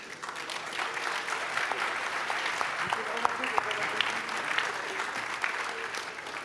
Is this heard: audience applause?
yes